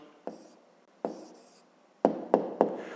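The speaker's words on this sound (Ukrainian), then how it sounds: "Пишемо відповідь." Pen writing an answer by hand on paper, with a few short scratchy strokes and taps, close and quiet.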